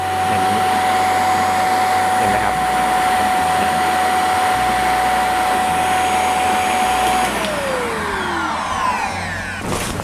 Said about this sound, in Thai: มาทีนี้เราก็จะมาลองดูดฝุ่นนะครับ ที่นอนอันนี้ว่า มันจะมี ฝุ่นเยอะขนาดไหนนะ